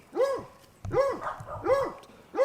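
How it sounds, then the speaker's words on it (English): Several dogs bark outdoors beside raised garden beds, a few loud, close barks arriving in spaced bursts about once a second. "Y'all know the dogs always have to make a cameo in my videos."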